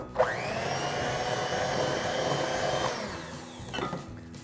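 An electric mixer creams vanilla cupcake batter, a loud, continuous motor whir starting abruptly and running steadily for about three seconds before cutting off, followed by a brief clatter.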